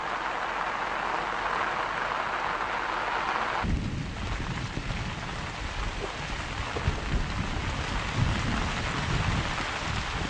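Heavy rain falls on bare soil as a steady, close hiss that turns into a deeper, denser downpour with a low rumbling undertone after a few seconds, with no voices.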